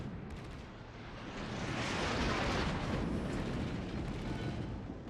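HE shell explosions in the World of Warships naval video game, a swelling, sustained roar of blasts building through the middle and lingering as a broad rumbling wash, with a few sharp cracks early on.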